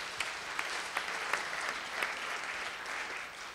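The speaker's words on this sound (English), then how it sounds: "Applause for Linda, please" Audience at a public lecture on hydrofracking in New York State claps for a speaker, a moderate, fairly distant patter of hands with a few sharper individual claps standing out.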